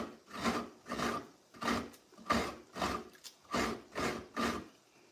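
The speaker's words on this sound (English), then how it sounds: "Grating my coconut." Coconut being grated by hand, with about nine even, rhythmic rasping strokes close to the mic. The scrapes come steadily, roughly one every half second, and no one speaks.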